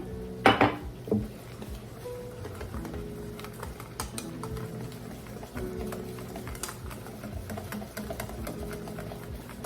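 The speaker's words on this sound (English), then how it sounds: "Just keep whisking." A whisk scrapes and clinks steadily around a pot of darkening roux for a Cajun seafood gumbo, producing a soft, continuous stirring rattle with a few sharper metallic taps near the start.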